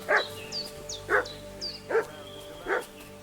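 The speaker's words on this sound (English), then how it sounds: "What's that dog making such a fuss about?" Dog in Kingdom Come: Deliverance 2 barking four times at steady intervals, moderately near, with faint bird chirps and a low ambient hum behind.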